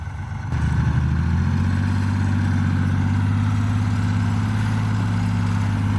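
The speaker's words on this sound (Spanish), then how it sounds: "Les vine a grabar cómo se ve de noche saliendo un carro cañero." A loaded sugarcane truck pulls out of a cane field in Veracruz at night, its heavy diesel engine rumbling steadily and close, rising in strength after a brief start and holding a continuous throb throughout.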